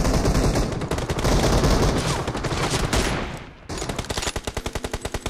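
Gunfire in PUBG Mobile, a dense stream of rapid automatic shots, loud and close, breaking briefly then resuming as a steady evenly spaced burst of single shots.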